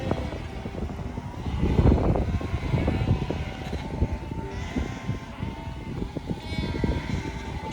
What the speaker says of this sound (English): led a sheep across the bridge